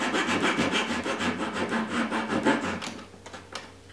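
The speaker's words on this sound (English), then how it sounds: "I happen to have just a little handsaw here, and you just go ahead and cut it" Small handsaw cutting through wood in quick back-and-forth strokes, a close, scratchy rasping that carries steadily and eases off near the end.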